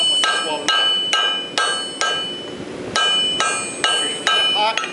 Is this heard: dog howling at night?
no